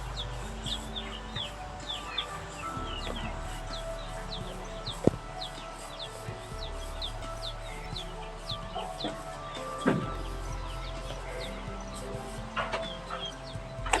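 Chickens in the Minecraft video game cluck in short, repeated calls scattered through a steady game backdrop, moderately close and clear.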